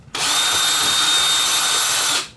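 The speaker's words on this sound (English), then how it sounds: "the drill bit disappears the minute I pull it away from the sides" A power drill spins steadily while mixing resin for ice cream handles, a continuous loud high-pitched whir that starts abruptly, holds for about two seconds, and cuts off.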